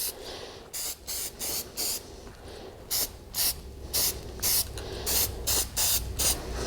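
Short bursts of an aerosol spray can coating a Sparco steering wheel in a garage, the hissing puffs repeating in a steady rhythm at close range.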